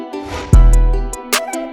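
A short transition sound effect: a heavy low boom drops in suddenly and fades within about a second, with a couple of short, bright accents trailing after.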